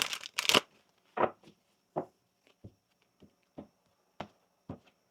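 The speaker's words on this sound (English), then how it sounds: "One more" A tarot deck shuffled in a series of quick riffles and soft slaps, with irregular pauses between bursts, close and otherwise quiet.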